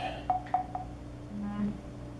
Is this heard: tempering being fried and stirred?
no